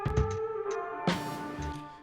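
A few synthetic plucked guitar-like MIDI guitar notes shaped with the modulation wheel and EQ, smooth and filtered, one sharper attack in the middle, ringing briefly in a sparse phrase.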